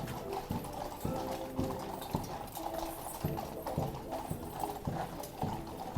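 Cavalry horses of the Horse Guard clip-clop steadily on pavement, a regular rhythm of hoofbeats close by, with a faint crowd murmur behind.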